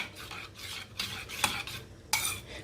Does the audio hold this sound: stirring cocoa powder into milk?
yes